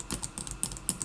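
Quick, light clicking of keys being typed on a computer keyboard, a short run of irregular taps, close and soft with no talking.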